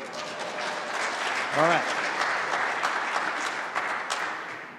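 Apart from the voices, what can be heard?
audience applause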